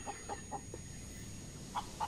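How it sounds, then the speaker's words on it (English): Chicken clucking in the space survival video game Breathedge, a series of short repeated clucks in an even rhythm with a pause and then two more, fairly faint over a steady electronic hum. "I have a chicken."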